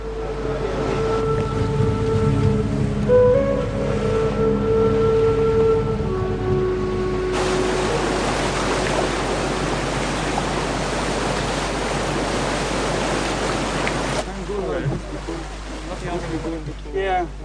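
Strong winds and Red Sea waves buffet a ship in a continuous loud broadband roar of wind and surging water, with a low steady hum and some tonal sounds early on.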